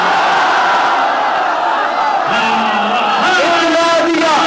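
An audience at a majlis answers with chanted slogans, a loud crowd roar that swells into sustained voiced shouting in the later seconds, close and filling the space.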